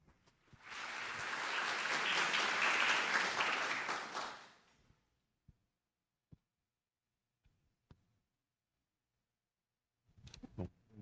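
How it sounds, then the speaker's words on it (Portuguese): A seminar audience claps to welcome a physics professor to a lecture on quantum technologies. The full applause lasts about four seconds, then fades into a quiet room with a few isolated knocks and rustles. "Uma salva de palmas para receber o professor."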